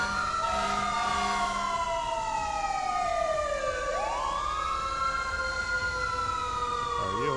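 Police car sirens in the video game GTA 5 wail loudly and continuously, their rising and falling tones shifting into a different siren pattern partway through.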